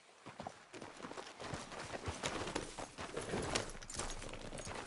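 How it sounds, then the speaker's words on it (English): Horse hooves clop along at a steady walking rhythm in a PS4 video game, close and continuous over a busy layer of ambient game sound. "How's that horse treating you?"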